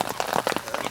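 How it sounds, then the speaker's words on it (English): Rain falling on a lake at a carp fishing pit, heard as close, patchy pattering with uneven bursts of drops striking a surface, fairly loud and alone. "you hear the rain, you know what it sounds like"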